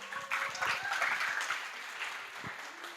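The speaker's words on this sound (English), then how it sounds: "So, a bigger round of applause for her." An audience at a sangeet night applauds a dancer, with a burst of clapping that peaks early and then tapers off.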